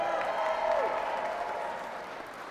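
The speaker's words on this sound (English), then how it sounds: "Let's give her a round of applause." Audience at a Shelby County mayor-elect's victory speech giving a round of applause, a steady wash of clapping with some crowd murmur, fading slightly toward the end.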